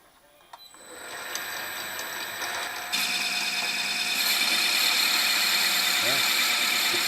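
A lathe insert turning cast iron: a steady droning machine hum with a thin, funny-sounding tonal whine that grows louder and steps up partway through, continuous and close.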